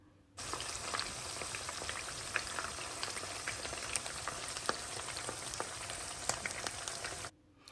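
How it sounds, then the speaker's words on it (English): Fish frying in hot oil for a Jamaican fried fish dish, a close, continuous crackling sizzle with scattered pops that starts abruptly and cuts off near the end, no talking. "let's go ahead and make those fish fry and get nice and brown"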